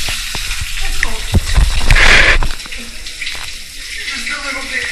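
Rainforest waterfall shower at a cruise ship spa, close running water splashing and hissing steadily, with a louder gush in the middle as someone moves through the stream.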